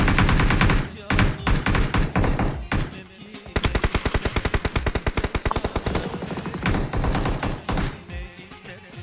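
Rapid bursts of automatic gunfire in PUBG Mobile, loud and close, with a long steady rattling volley in the middle and shorter bursts around it, separated by brief pauses.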